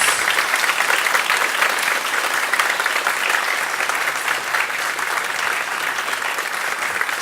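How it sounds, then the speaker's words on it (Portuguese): A church congregation claps in sustained, dense applause for Jesus, loud and steady throughout with no talking. "dê uma salva de palmas a Jesus"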